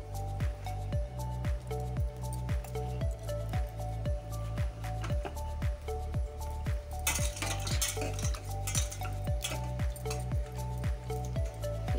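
Mysore bonda batter frying in hot oil gives a broad, steady sizzle, with rhythmic scraping strokes about twice a second over a low constant hum, swelling into a brighter crackle partway through. No one speaks.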